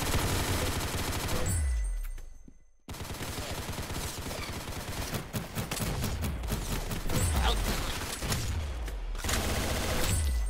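Rapid automatic gunfire from the Roblox shooter Arsenal, sustained bursts of loud close shots with a brief silent gap early on, then continuous firing with sharp repeated reports.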